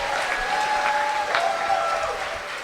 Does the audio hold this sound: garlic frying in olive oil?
no